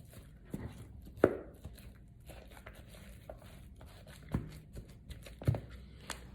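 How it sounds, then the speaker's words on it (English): Sausage roll filling being mashed with a spoon in a bowl, with soft wet squelches and occasional sharper knocks of the spoon against the bowl, close and fairly quiet. "So I just kind of mash it up a little bit."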